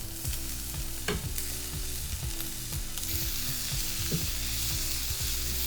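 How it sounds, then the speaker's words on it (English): Shadow benny, onion, pimento, thyme and garlic fry in hot oil in a medium pan. The sizzle is steady and close, broken by repeated clattering scrapes of stirring. "in a medium pan, I have some oil here heating up, and we're just gonna get our aromatics going"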